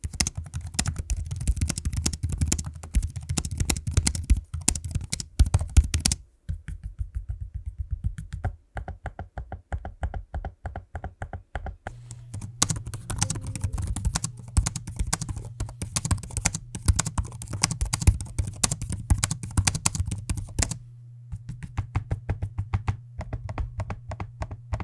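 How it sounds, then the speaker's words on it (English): Typing on the keyboards of HP Envy 16 and HP Omen 16 laptops along with trackpad clicks, a dense, close patter of key taps lasting about twenty-five seconds, broken by two brief pauses. "in regards to what it sounds like to click the trackpad and use the keyboard, here's a quick audio sample for you"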